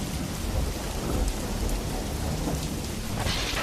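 Heavy rain pours without a break as thunder rumbles in a night storm near a damp, dark village shelter. The downpour is dense, loud and close, with low booming rolls under it and no voices.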